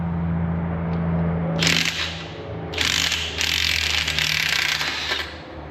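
An impact wrench rattles in two bursts, one short and one longer, while backing out exhaust manifold studs on a Ford 3.5 EcoBoost engine, over a steady mechanical hum in a workshop.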